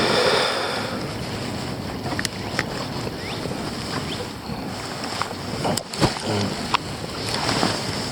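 Steady wind buffets and roars across the microphone on an open fishing boat on a lake, with small water slaps and occasional knocks and clicks from on board throughout.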